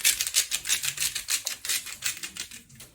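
Sea salt ground over freshly cooked potato chips, a steady run of rapid dry crunching clicks from a close mill, about a dozen quick grinding bursts in even rhythm with no voices.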